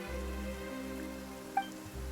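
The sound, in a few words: heavy rain in Genshin Impact video game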